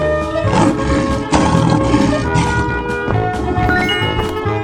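A lion roars in a 3D animal video game, a loud, sustained growling roar layered over busy game music and effects, with no speech.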